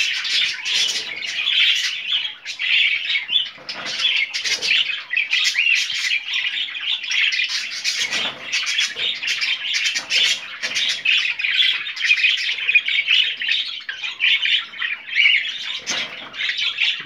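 Several budgerigars in a cage keep up steady squawking and chirping, close and busy, with brief rustles of wing flapping and no talk.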